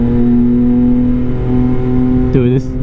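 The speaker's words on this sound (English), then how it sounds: "this bike sounds so epic going through these walls. Sounds so loud" Yamaha XSR900 motorcycle, 2022, fitted with a Kelpi Custom Moto shorty exhaust, droning loud and steady at close range with a sharp rev climb near the end, echoing off surrounding walls.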